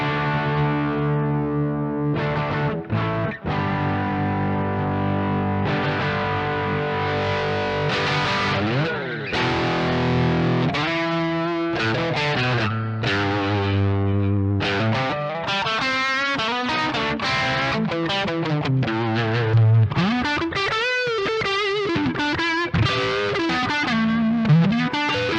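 Electric guitar played through a NUX 6ixty 5ive overdrive pedal with the treble turned fully up on the neck pickup, giving a loud, continuous run of distorted chords and sustained notes with bends and slides, heard alone without voices.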